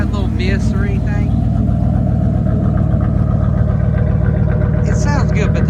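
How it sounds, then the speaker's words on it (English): Truck engine with a hacked, leaky exhaust, idling loudly and close with a steady throbbing low rumble and a rapid pulsing beat, with faint chirpy sounds above it. "It sounds good, but the exhaust is absolute trash on this truck."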